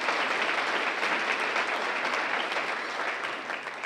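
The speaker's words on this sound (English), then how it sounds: "So please give them a round of applause as well." Steady audience applause at a university Founders' Day ceremony honoring a centenarian, a dense, even roar of many hands clapping that holds level and eases slightly toward the end.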